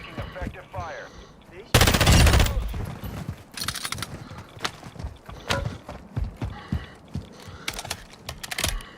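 Gunfire in Call of Duty DMZ, starting with a loud close burst of automatic fire and followed by scattered rapid shots with keyboard-like clicking. Voices come through faintly in between.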